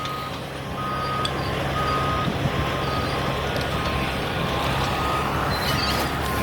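A big loader works at a trash dump, its reversing beeps repeating over a steady diesel engine roar and rumbling machinery, heard from moderate distance with no talking.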